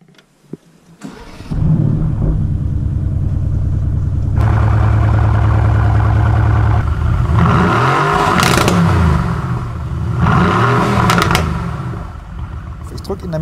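A Mercedes-AMG GT R with a three-outlet exhaust, two pipes at the sides and one in the centre, starts up and revs loudly and close, with rising and falling surges and a lower-level settle toward the end.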